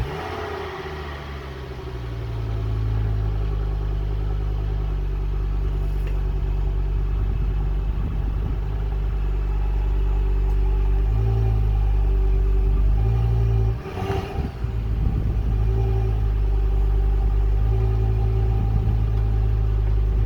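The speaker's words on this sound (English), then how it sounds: "let's get them under the back of the car, reverse back up and lift the car up a little bit" A Ford Focus ST engine idles with a low, steady rumble while the car reverses up onto small ramps outdoors. A few soft throttle swells and one brief bump midway interrupt the drone.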